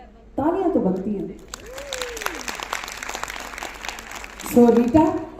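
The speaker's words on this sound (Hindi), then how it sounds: "तालियां तो बनती हैं" An audience at a thirtieth anniversary celebration bursts into sustained applause, dense crackling clapping lasting several seconds, with a voice speaking before and after.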